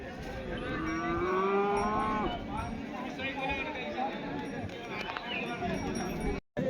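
Several buffaloes low in drawn-out, tonal moos at the Pusad cattle and buffalo market, loud and close, with crowd chatter and market bustle underneath.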